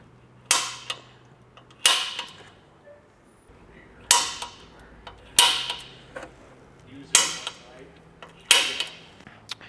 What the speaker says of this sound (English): we're gonna go ahead now and mark the holes here with a center punch.